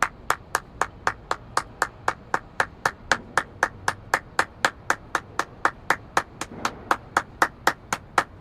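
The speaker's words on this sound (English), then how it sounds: "Everybody clap your hands." A group of people claps hands together in a steady, even rhythm, with about thirty crisp, regular claps ringing out in a quiet room without any talking.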